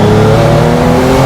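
A GuntherWerks Porsche 911 Turbo engine drones loud and steady at close range, its sustained harmonic tone holding through a brief burst with no voices.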